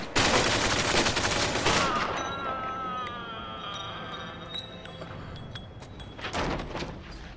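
Dense bursts of gunfire fill the opening seconds of a Mafia 2 shootout, then fade into ringing tones and scattered lighter noises, with another loud burst near the end.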